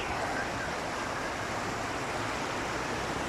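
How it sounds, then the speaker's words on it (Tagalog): Strong rushing river water pours steadily, a dense continuous roar with no other sounds. "Malakas ng tubig."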